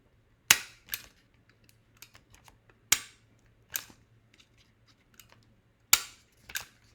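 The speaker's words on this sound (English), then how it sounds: "you can just staple along the edges" Sharp, close snaps of a stapler punching staples along paper edges, about half a dozen crisp clicks at an uneven pace with quiet paper rustles between them, and no voices.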